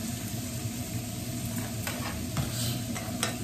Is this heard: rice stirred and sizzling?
yes